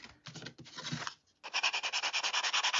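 Light hand sanding around the heads of carved wooden angel figures, close rubbing strokes that pause briefly and then resume in a quick steady rhythm.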